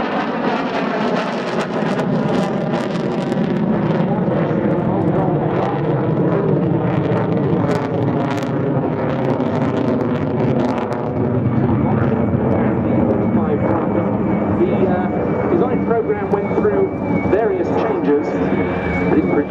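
Saab AJ37 Viggen military jet performing at an air show, a loud continuous roar of jet engine noise sustained throughout with a steady rumble, while a commentator talks over it.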